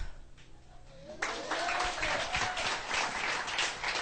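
Audience applause at a business plan presentation breaks out suddenly and keeps going steadily, a dense wash of many hands clapping, fairly loud and close.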